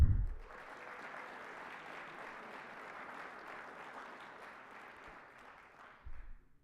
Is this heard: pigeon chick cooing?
no